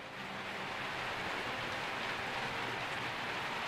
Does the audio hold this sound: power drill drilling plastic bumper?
no